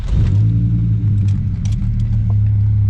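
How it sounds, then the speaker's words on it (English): Dodge Viper sports car driving on the road, a steady deep engine rumble heard from inside the cabin, with faint rattles and clicks over the low drone. "Is the Dodge Viper a good road trip vehicle?"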